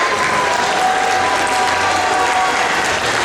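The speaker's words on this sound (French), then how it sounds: "Vous pouvez l'applaudir un peu plus fort" A convention crowd applauds a cosplay prize winner at an awards ceremony, loud dense clapping sustained evenly throughout with no voices on top.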